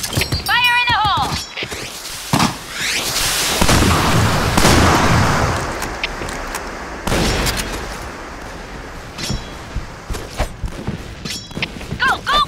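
Bursts of gunfire and heavy grenade blasts from the online shooter Point Blank, loud and close, with sharp shots scattered throughout and a few big booming explosions; game voices call out between them.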